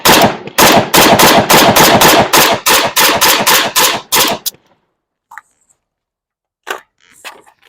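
Rapid semi-automatic gunfire from a 300 Blackout rifle, a string of about fourteen loud, close sharp shots in quick rhythm, followed by silence and a few faint clicks and rustles.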